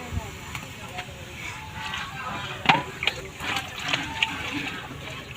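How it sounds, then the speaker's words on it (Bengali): Hot water is poured into pilaf rice cooking for a picnic, making a splashing, gurgling flow with a few sharper spatters, while voices are heard in the background. "গরম পানি দেওয়া হচ্ছে পোলার চালের ভিতর"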